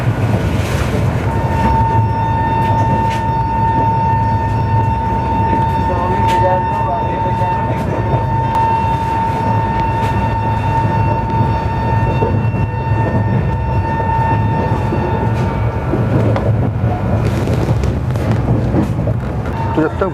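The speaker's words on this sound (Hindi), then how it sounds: "आइए फटाफट में देखते हैं गोमती एक्सप्रेस का ओवरटेक।" From aboard another train, the Gomti Express overtakes with a continuous rumbling roar and a steady humming tone, mixed with wind buffeting throughout.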